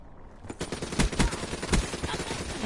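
An ICR-1 rifle fires in Black Ops 3, a rapid string of sharp gunshots in bursts, close and loud throughout.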